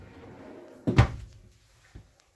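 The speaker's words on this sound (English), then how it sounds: "Pots and pan drawer right below" A pots-and-pans drawer in a 2023 Venture Stratus 221VRK RV kitchen shuts with a single sharp, close knock and rattle, followed by a faint second tap, in an otherwise quiet room.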